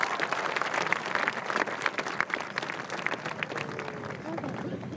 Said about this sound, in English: Let's commemorate that with a round of applause.